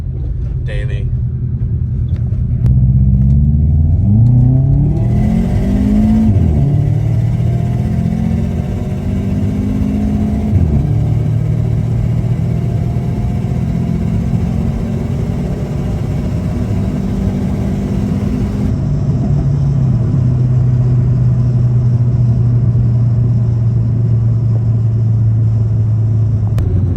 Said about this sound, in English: sounds good, makes all the right sounds with the external and the exhaust